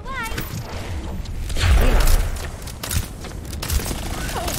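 Bombs burst during an Overwatch match, a few heavy booms and crackling blasts mixed with mechanical clanks and other game effects.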